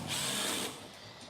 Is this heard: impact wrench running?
yes